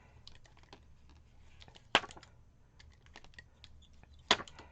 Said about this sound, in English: let me see if I can cut through part of this tape with the knife